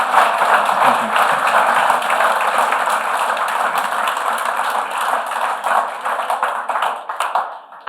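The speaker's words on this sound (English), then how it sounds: "could you everyone give Sam a round of applause?" Sustained audience applause at an autumn farming conference, a dense steady patter of many hands clapping for several seconds, close and loud, with faint murmuring underneath and a scattered fade at the end.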